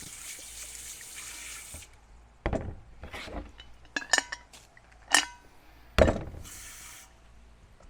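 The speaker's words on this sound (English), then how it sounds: "I'm going to start by rinsing it a little bit." An aluminium Afghan Kazan pressure cooker is rinsed under a running tap in a sink: a steady water hiss with intermittent sharp metallic clanks and knocks of the pot, close and fairly quiet, with no talking.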